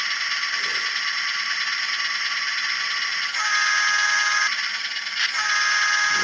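Engine sound from an N gauge model train sound car, a loud steady electronic drone with a constant hum that steps up in intensity partway through as the engine is sped up, with no talk.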